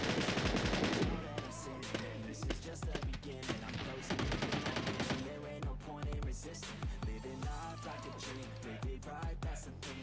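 Automatic and single gunshots crack in the video game PUBG Lite, with a dense burst at the start and then scattered shots and short volleys throughout, mixed with game sounds and bits of talk.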